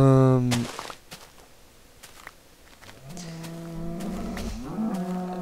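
Cows mooing in Minecraft, a loud low moo at the start, then two more drawn-out moos rising toward the end, with a voice talking underneath.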